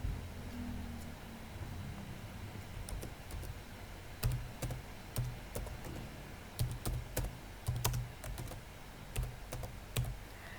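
Typing on a computer keyboard while writing text in a design program, with clusters of sharp key clicks coming in irregular bursts over a steady low hum, close and moderately quiet, no one talking.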